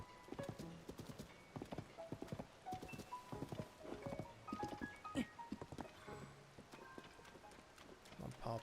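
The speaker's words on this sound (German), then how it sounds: "Noch ein paar Pferde mehr." Horses' hooves clip-clop in a steady trot with an occasional whinny in the Zelda: Tears of the Kingdom game world, faint and continuous throughout.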